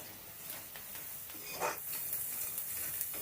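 Sliced onions sizzle gently in oil seasoned with cumin, ajwain, asafoetida and turmeric: a quiet, continuous crackle with an occasional brief stir.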